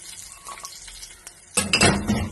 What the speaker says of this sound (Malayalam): ഇനി നമുക്ക് ഈ മുളക് ഒന്ന് വറുത്തെടുക്കാം.